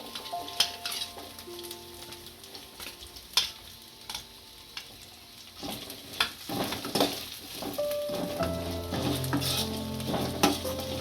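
Onions sautéed in a pan with chilli-garlic paste while making hotel-style dry soya chilli, heard as a steady sizzle under repeated metal stirring scrapes and clinks that grow busier toward the end, close up, with no voices.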